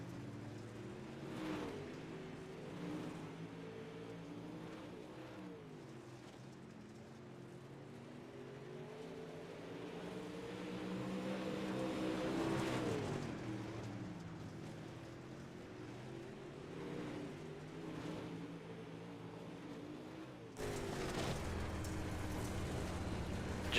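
Dirt karts race together through a heat at a season-opener on a dirt track, several small engines droning and rising and falling in pitch, steady and moderately loud for the whole stretch, with a sharp jump in level near the end.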